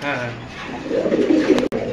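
A yellow Kormona pigeon pair coos in a low, throaty rumble that swells in the second half, with a brief sharp break near the end.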